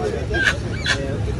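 Turkey at an open-air poultry fair in Palmeira dos Índios, Brazil, gives two short honking gobbles amid a busy crowd with other fowl, close and moderately loud.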